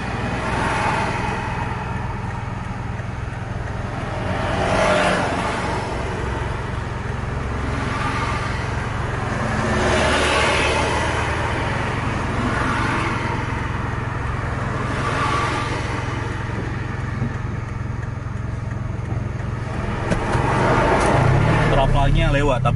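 Cikaji bus passing along a congested road amid traffic, its mid-pitched engine rumble rising and falling with passing vehicles while someone talks over it throughout.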